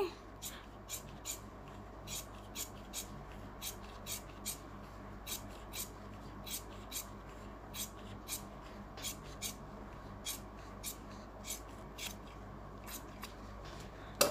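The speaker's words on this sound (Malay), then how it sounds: "Okey kita boleh potong dia punya basi ni." Scissors trim the excess fabric from a sewn neckline on a Punjabi-style garment, giving a long run of small, crisp snips at a steady, even pace, close and quiet against a soft background.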